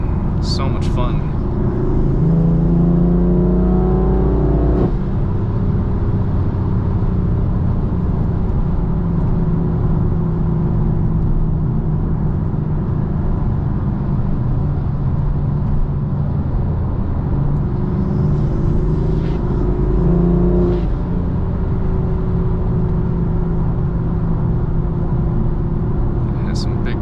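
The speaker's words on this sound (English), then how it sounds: "The engine's just really loud in lower gears" A BMW M4 engine drones loudly while driving, a steady deep rumble with gear shifts heard as pitch drops, running under a voice talking throughout.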